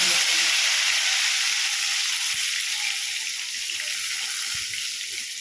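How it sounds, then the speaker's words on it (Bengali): Eggplant slices hit hot white oil in a karai and set off a loud, steady sizzle and hiss that continues throughout, with faint knocks from the pan underneath. "তেল গরম হয়ে গিয়েছে, দিয়ে দিচ্ছি বেগুনগুলো।"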